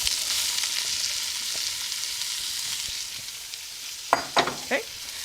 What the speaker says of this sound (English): Give it a mix and make sure you're scraping as you mix, getting up all of that stuck on flavor.